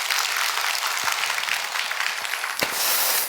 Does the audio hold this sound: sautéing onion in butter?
no